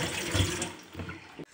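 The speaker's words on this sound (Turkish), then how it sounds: "Pirincimi yıkadım." Rice is rinsed under running water in a kitchen while cooking pilaf, a close, steady splashing rush that ends abruptly with a sharp stop, heard alone.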